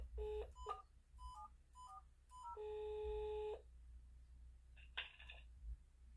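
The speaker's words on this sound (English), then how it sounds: "And I got Chief Daniels on the phone." A telephone number being dialed as a string of touch-tone beeps, several short quick tones then one long sustained tone and a final pair, over a low steady hum.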